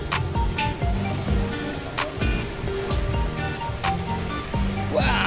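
Sea waves washing onto the shore at Kampung Pasir, Balikpapan, a steady broadband wash with periodic surges over about five seconds, overlaid by other activity and faint background noise.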